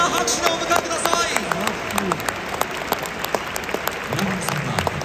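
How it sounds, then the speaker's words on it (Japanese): Stadium crowd in Tokyo Dome applauds a ceremonial first pitch at a Giants–Hanshin game, broad clapping spread across a large echoing space, with a voice over the public address and scattered crowd noise. "大きな拍手でお迎えください。"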